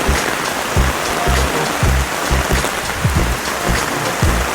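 Heavy rain pours steadily and close by, a dense even hiss with drops spattering on surfaces throughout, and no voices.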